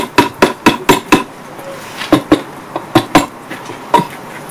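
Sharp metallic hammer strikes ring out close by in quick irregular bursts, about fifteen blows in clusters with short pauses between them.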